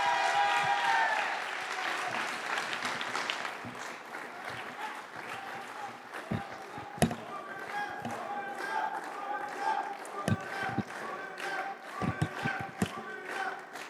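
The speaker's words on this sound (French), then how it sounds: "je vous remercie d'applaudir chaleureusement" Audience applause at a political meeting in Lomme, loud and dense at the start, then fading into scattered claps and thumps.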